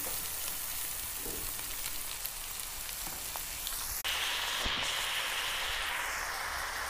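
Amaranth and spinach greens fry in a pan with a steady crackling sizzle. Partway through, a sharp bump marks a brighter, louder burst of hissing, with no talking.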